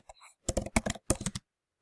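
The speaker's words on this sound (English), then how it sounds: "I'm going to type that in" Computer keyboard typing in three quick bursts of close, crisp key clicks separated by short pauses, quiet overall with a faint breath at the start.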